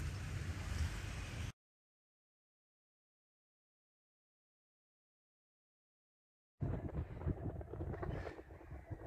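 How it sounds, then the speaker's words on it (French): Light wind rumbles and buffets a camera microphone outdoors in Brittany, a low steady roar before and after a stretch of silence. "il y a un petit peu de vent et je sais qu'avec la caméra en général ça s'entend beaucoup plus qu'en réalité"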